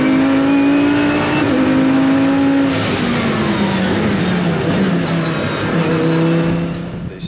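An Audi R8 race car on a warm-up lap at Botniaring roars loud and close. The engine note holds steady, shifts pitch as it changes gear, and then eases off slightly near the end.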